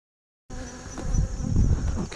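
Honey bees buzz loudly and steadily at an outdoor beehive, a dense close-up drone that starts abruptly and swells slightly, with no talking.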